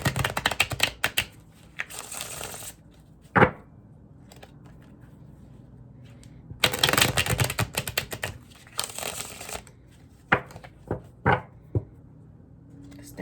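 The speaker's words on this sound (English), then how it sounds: "This deck is just such a beautiful shuffle." Cards riffle and flutter in short bursts, with crisp snaps and taps between shuffles, close by and fairly quiet.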